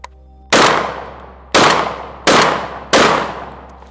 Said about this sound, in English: I got 5 more rounds of full power buckshot in here.